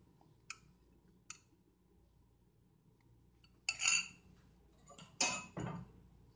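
A spoon works chutney paste into yogurt in a bowl: two light clinks, then louder scraping, mixing strokes in short bursts against quiet background.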